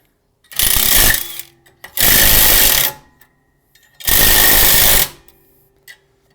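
Three loud bursts from a power tool driving 13mm bolts into the threaded holes of a rear brake drum on a 2009-2013 Toyota Corolla, each lasting about a second, separated by brief pauses.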